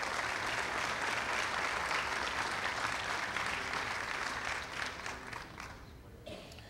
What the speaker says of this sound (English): Round of applause for all our dignitaries today.